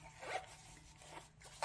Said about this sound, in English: See how easily it goes into the case and zips up?